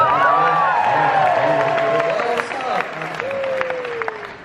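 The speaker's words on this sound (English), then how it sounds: "How about a round of applause?" A church conference crowd cheering and clapping loudly, with whoops and shouts rising over steady applause, close and continuous throughout.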